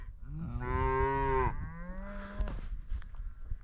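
Cattle out on open range near Reno, Nevada, moo: one loud, close bellow, then a lower, longer second moo, with faint background noise and no talking.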